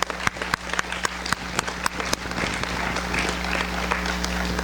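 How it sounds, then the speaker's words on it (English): Applause from an audience at a high school senior awards ceremony, many hands clapping steadily with sharp individual claps standing out over a dense, sustained wash that fills the room throughout. "Let's give them all a round of applause"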